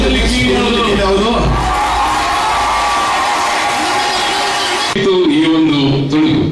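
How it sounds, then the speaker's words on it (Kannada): A loud audience at a comedy awards event cheers and shouts continuously, with whoops rising over a dense crowd roar that swells again near the end. "3, 2, 1 ಜೋರ್ ಚಪ್ಪಾಳೆ ಬರಲಿ ಫಾರ್ ಕುಲದಲ್ಲಿ ಕೀಳಿಯಾವುದು."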